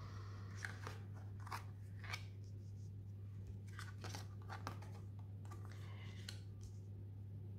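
Tarot cards drawn and shuffled by hand, a series of crisp, quiet snaps and rustles at irregular intervals over a faint steady hum.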